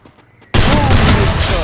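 A sudden loud volley of gunfire erupts in a shooter video game after a quiet opening, dense sustained shots filling the rest of the moment at close range.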